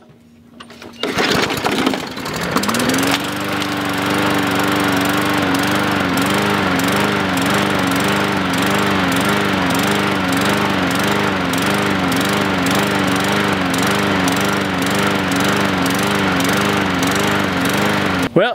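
A small lawn mower engine, started on fuel left from last season, sputters and catches, then settles into a steady, loud idle running a little low, droning on without a break.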